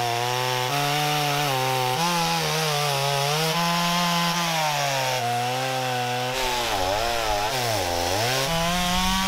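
A chainsaw cuts through a log, its engine buzzing loud and close with pitch dipping and rising as the chain bogs into the wood and revs free again, continuous throughout.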